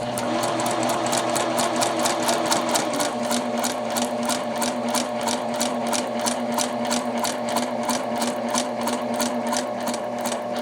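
A sewing machine runs steadily, stay stitching along a garment neckline from the shoulder with a number 2 stitch, its rapid regular needle clatter loud and close without pause.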